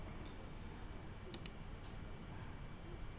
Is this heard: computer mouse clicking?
yes